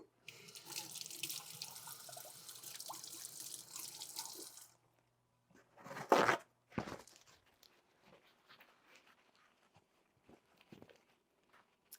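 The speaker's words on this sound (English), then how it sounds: "Let me wash my hands first." Running tap water splashes into a kitchen sink while someone washes their hands, a steady close rush for several seconds before it shuts off, followed by scattered clunks and light handling sounds.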